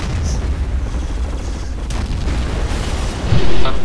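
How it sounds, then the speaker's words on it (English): Tanks and a 25-pounder artillery gun firing in a war video game give a continuous low, rumbling roar of distant booms, with a louder, heavier blast near the end. "he's destroying his own 25-pounder and he can't stop his tanks from firing"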